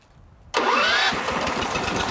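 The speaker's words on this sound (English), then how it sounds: "And now we're ready to start the compressor." A gas-driven piston air compressor's engine catches abruptly after a short quiet lead-in, then settles into a loud, steady, close running chug with a fast pulsing rhythm.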